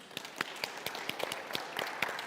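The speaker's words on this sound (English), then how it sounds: "Let's give a round of applause for our guests" Audience applause for guests at a blockchain conference: a thin spatter of separate hand claps at an uneven rhythm, fairly faint, as if only a few people are clapping.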